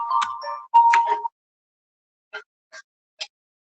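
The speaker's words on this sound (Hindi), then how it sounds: "कौन फोन कर रहा है यार ऐसा टाइम में," A mobile phone rings with an incoming call: a short electronic ringtone melody plays for about a second, followed by three brief, evenly spaced chirps in an otherwise quiet setting.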